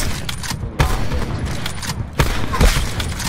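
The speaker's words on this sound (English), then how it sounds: "Sniper fire." Sniper fire in a first-person shooter game: several sharp, loud cracks stand out at irregular intervals over a constant din of battle and scattered gunfire.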